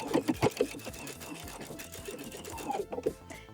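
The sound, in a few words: sewing machine edge stitching slipper fabric layers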